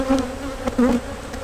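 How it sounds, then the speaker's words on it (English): Honey bees buzz steadily as they are shaken off a brood and honey frame, a dense close drone with a few sharper swells of wingbeat noise and no talk. "I gotta shake the rest of the bees off"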